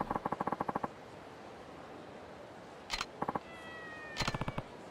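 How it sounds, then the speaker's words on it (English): Cat in Yakuza 3 giving short chirping meows in quick bursts, a rapid series at the start followed by two more brief clusters, fairly quiet. "Here, kitty, kitty, kitty."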